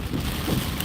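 Steady rain, heard close and fairly loud as a continuous broadband wash with low rumbling texture throughout, no voices.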